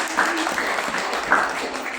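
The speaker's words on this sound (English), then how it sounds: "A warm round of applause, please." Audience applause welcoming a speaker at a charity fun run event, a brief moderate burst of crowd clapping heard at some distance, fairly even with no voices over it.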